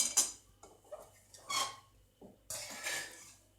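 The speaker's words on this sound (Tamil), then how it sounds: "இப்போ இதை நம்ம அந்த தட்டில் கொட்டி ஆற வச்சுருவோம்" Roasted rasam spice mix tipped onto a plate to cool, a few short dry rattling and scraping bursts of grains and a spoon against the plate, close and fairly quiet with pauses between.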